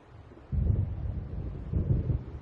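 Deep rolling thunder from an approaching storm in the Alan Wake game, two heavy low rumbles swelling over a softer windy background, fairly loud and with no voices.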